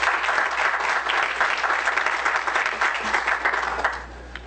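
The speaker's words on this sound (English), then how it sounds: "Give her a round of applause." Sustained applause from a symposium audience welcoming a panelist onto a city and county leadership panel, dense steady clapping that carries on for several seconds and tapers slightly at the end.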